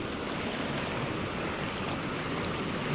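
A fast-flowing flooded river surges high enough to wash over a bridge, giving a steady, loud, unbroken roar of rushing water with no voices.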